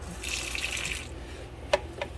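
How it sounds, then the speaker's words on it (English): Hot tap water runs from a kitchen faucet while tortilla dough is being made, a fairly close steady stream that softens partway through, with a brief splash or knock near the end. "I use hot tap water, and I just do this"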